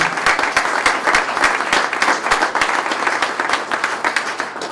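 An audience at a hockey tournament sponsorship announcement breaks into loud, sustained applause, many hands clapping steadily and close for nearly five seconds.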